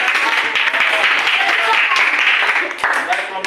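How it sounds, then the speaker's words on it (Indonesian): Students in a junior high school classroom clap for a presenting group, a loud, dense round of applause close by with some voices mixed in, easing slightly near the end. "Berikan tepuk tangan untuk kelompok."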